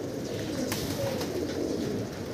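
Pigeons from a flock kept for flying practice coo softly and continuously nearby, a low steady murmur of several birds without any talk.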